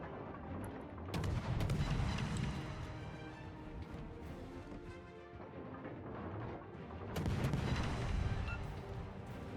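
Gunfire and distant booms in a video game battle, two heavier bursts of firing rolling in amid a dense continuous backdrop of shots and rumble, no voices.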